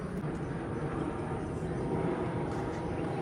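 A low, steady rumble of an airplane passing overhead, distant and even throughout, with no one speaking.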